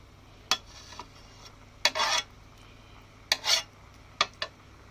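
Metal clatters of a pot being covered with a lid while chicken cooks, a few sharp clanks and brief scraping rubs spaced through a quiet kitchen, close and moderately loud.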